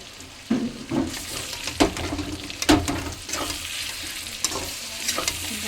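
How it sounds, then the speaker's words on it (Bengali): Vegetables fry in a pan with turmeric, chili, ginger and garlic, sizzling steadily while a spoon stirs them in scraping strokes and occasional clanks, close up and without speech. "ভালো করে কষানো"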